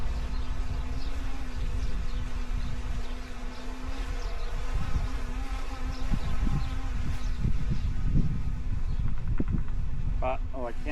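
Honey bees hum steadily in an open queenless hive, a dense close buzz with individual bees whirring past, while a person speaks quietly beneath it.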